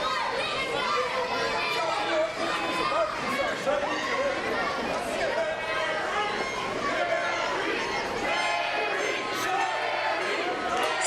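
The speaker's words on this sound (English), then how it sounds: "this crowd is louder than ever, maybe as loud as they've been all night so far" A loud, dense crowd at a small-venue NWA GCW wrestling show roars and chatters continuously, a steady wall of cheering voices with scattered higher shouts rising throughout.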